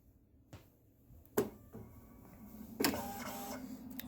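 A vinyl cutting machine powers up for cutting T-shirt vinyl, giving quiet whirring motor sounds and a few sharp mechanical clicks and clunks as its carriage moves.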